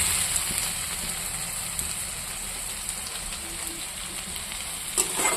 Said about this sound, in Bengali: এটা এখন আমার একটু ভাজা ভাজা হয়ে গেছে